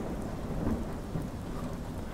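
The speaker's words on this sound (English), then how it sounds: "The rain was the perfect disguise." Steady rain and low rolling thunder fill a Roblox video game scene: a constant wash of rainfall with a deep rumble underneath, fairly quiet and with no voices.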